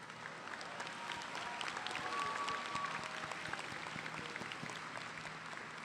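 Audience applause at a Kennesaw State University graduation ceremony, a sustained wash of many hands clapping at a distance, steady throughout and swelling slightly midway.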